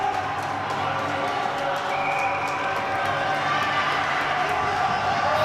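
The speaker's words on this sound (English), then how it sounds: "A lot of good parents cheering on both sides." Parents cheer steadily in an arena during a girls hockey game between Eagan and Shakopee, a constant crowd roar with a commentator talking over it.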